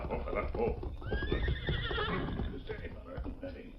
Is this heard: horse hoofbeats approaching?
yes